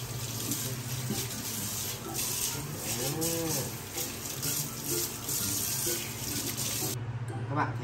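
Water runs steadily from a tap into a sink while dishes are washed, a continuous hiss broken by soft clinks and splashes, with one brief drawn-out vocal sound partway through.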